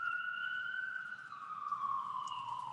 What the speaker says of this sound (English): Hey, we have a siren going down.